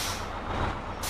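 A bus in Bus Simulator Pro gives a steady hiss of air brakes while slowing, loud and continuous, with a sharp rush of air at the very end.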